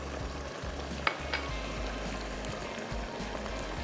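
Julienned ginger and fresh coriander fry for achaari qeema cholay, a quiet, steady sizzle with light stirring scrapes and a couple of soft clicks from a spoon against the pot.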